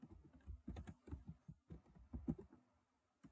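Fingers typing on a computer keyboard while coding in Python, a quick, uneven run of soft close-up key clicks with short pauses, faint and with no talking.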